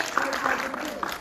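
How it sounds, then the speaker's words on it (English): A class at an animation drawing lesson applauds in a moderate, steady patter of clapping, with voices and cheering mixed in over it. "So give yourselves a round of applause."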